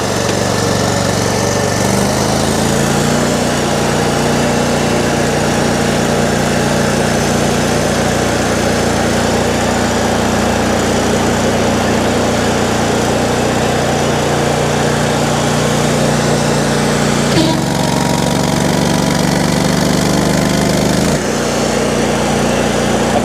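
Power sweep engine running steadily and loud for the whole stretch, with a couple of abrupt shifts in engine pitch as the throttle changes, close by and with no talk.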